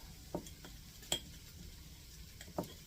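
Spoon stirring chili powder and ground cumin into a pot of taco soup, with a few soft scraping clinks of utensil against the pot spaced apart over a quiet background.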